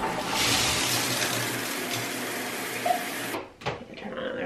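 Shower water running, a steady broadband hiss of spray held for several seconds close by, then a sudden cutoff followed by a few faint knocks and splashes.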